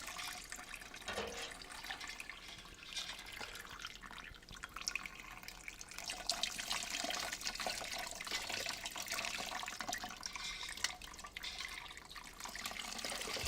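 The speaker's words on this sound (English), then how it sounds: "we're going to use this hot water to rinse all the sugars out of our grains" Hot water at 170 degrees is poured over steeped grains to rinse out the sugars while brewing beer, a soft continuous trickle and splash that stays steady and quiet throughout.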